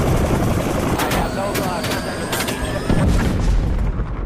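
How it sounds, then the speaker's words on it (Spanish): A helicopter approaches with supplies under North Vietnamese fire during a 1966–1967 Vietnam War battle, its loud, dense rotor roar mixed with sharp booms and bursts of gunfire. "Cada vez que un helicóptero se acercaba con suministros, el ejército norvietnamita le disparaba."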